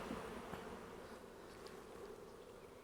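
Honey bees buzzing around an open beehive, a steady, faint, dense drone with no talking.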